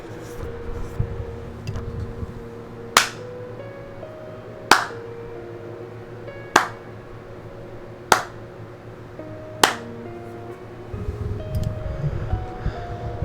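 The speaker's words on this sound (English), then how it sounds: "Then he slowly clapped his hands together." Slow hand clapping from the Umineko visual novel game: five crisp, widely spaced claps, roughly one every one and a half to two seconds, loud and close over a quiet background drone.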